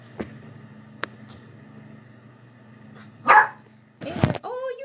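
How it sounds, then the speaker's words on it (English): A dog in a quiet room gives a rough bark and then a short run of louder barks and yips near the end, with faint background hum between them. "Why don't you bark when I want you to bark"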